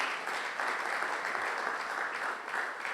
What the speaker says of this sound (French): Est-ce que tu peux encore acclamer pour la gloire de Jésus? Acclame encore.